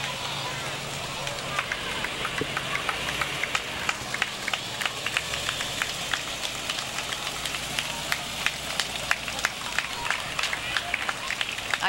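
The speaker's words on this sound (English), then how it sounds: "I hear applause from everyone." Spectators at a 4th of July street parade in Edina applaud, a dense steady wash of many hands clapping throughout, with crowd murmur underneath.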